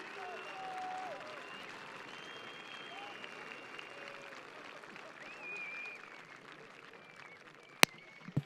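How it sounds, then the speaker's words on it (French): A BMX competition crowd at a French Cup final in Besançon applauds and cheers from a distance, a soft sustained roar with an announcer's amplified voice over it and a sharp click near the end. "Faites beaucoup de bruit, allez-y!"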